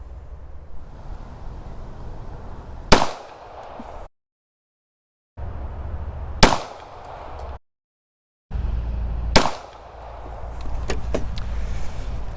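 Three pistol shots are fired outdoors with a red dot sight, each a single sharp loud crack spaced a few seconds apart over low background rumble.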